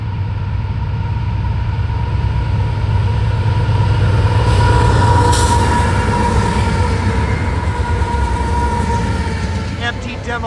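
Freight train M426, a long consist of 490 axles, roars past at East Brookfield. A loud, continuous close rumble carries rhythmic wheel clatter, with a brief high squeal and a voice heard partway through.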